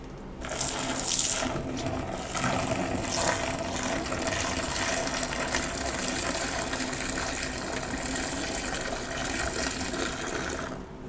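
Hot water pours into a clogged toilet bowl in a steady, loud, gushing stream, splashing continuously for several seconds before stopping.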